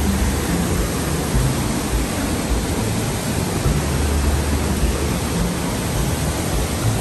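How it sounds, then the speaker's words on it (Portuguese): A waterfall on a trail in a national park in Brazil roars loudly and close, a dense, unbroken rush of falling water with no voices over it. "Essa é a cachoeira do"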